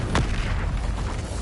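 A single booming blast from the Expulso explosion spell in Hogwarts Legacy, a sharp burst near the start followed by a rumbling low-heavy decay, loud and close without any talking.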